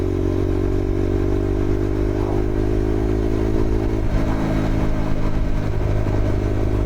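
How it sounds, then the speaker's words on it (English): A deep motorcycle engine rumbles steadily up close, its low, throaty exhaust droning continuously with a slight shift in tone midway. "That exhaust has got quite deep now."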